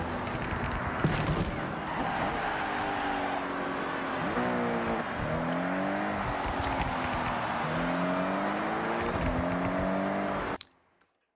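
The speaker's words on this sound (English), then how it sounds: "the sound of the turbo under load is so good. It also has some really nice burbles." A Toyota GR GT in the Forza Horizon 6 racing game is driven hard with turbo whine under load, rising and falling engine revs across gear changes and exhaust burbles, loud and continuous before cutting off abruptly.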